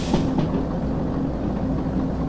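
A steam locomotive in the Derail Valley video game rumbles along with a steady low mechanical drone and faint rolling clatter, close and continuous with no talk.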